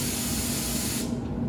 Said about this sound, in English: so when we're spraying, we want to be sure to do like a consistent up and down